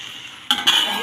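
Chopped onion stirred into masala in a pan: quiet at first, then a sudden burst of sizzling and a scraping stir as the onion hits the hot pan, close and brief.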